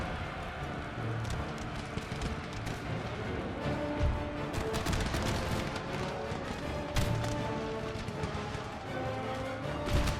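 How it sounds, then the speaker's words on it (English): Howitzer artillery fires continuously in a Total War battle, with dense overlapping booms, crackling musket-like volleys and broad battlefield rumble throughout, loud and busy with no clear gaps. "I'll just leave the howitzers shooting where they're shooting."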